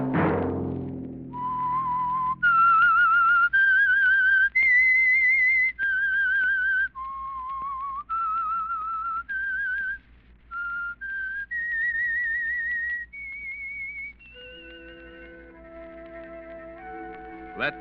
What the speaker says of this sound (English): Let that whistle be your signal for the Signal Oil program, The Whistler, each Monday at 9